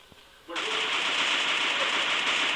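Automatic rifle fire in the mobile shooter game Free Fire, zombie apocalypse mode: after a half second of near quiet, a loud continuous rapid burst runs to the end.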